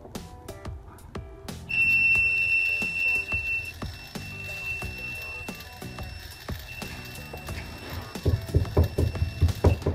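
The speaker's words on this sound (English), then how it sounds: "it will automatically alert and also sound a buzzer alarm in the system" A smoke detector buzzer on a model automatic railway safety system sounds a steady high-pitched tone for a couple of seconds, amid clattering and tapping handling noises and a burst of knocks near the end.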